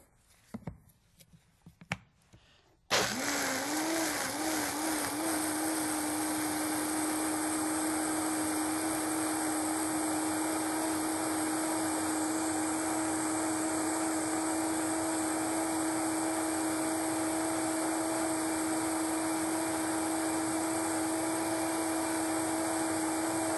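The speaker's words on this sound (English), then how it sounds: "So you want to blend this until it's smooth." A blender whizzes a tahini-based condiment mixture until smooth, starting abruptly after a few quiet seconds and then holding a loud, steady whirring drone with no talk.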